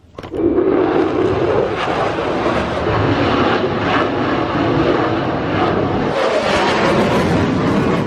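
An F-33C aerobatic Bonanza flies loops at Oshkosh AirVenture, its propeller engine a loud continuous drone that swells and shifts in pitch as the plane climbs and turns.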